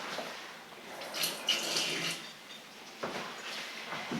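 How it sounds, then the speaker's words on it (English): Tap water runs into a kitchen sink while lab equipment is rinsed, a steady close splashing hiss that swells and dips with a few sharper splashes as the item is moved under the stream. "I'm gonna clean this really quickly in my sink."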